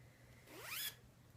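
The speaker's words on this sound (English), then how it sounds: "And zip it up." A zipper pulled shut on a mesh laundry bag holding a plush alpaca toy, one quick rising zip lasting under a second, close and clear in a quiet room.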